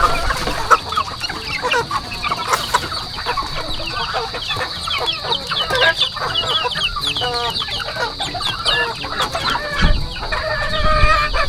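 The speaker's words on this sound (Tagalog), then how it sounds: "Bawat uri po ng mga manok ay nakahiwalay po." Many chickens clucking and squawking together in a busy coop, with rooster-like calls mixed in and a constant high-pitched hum.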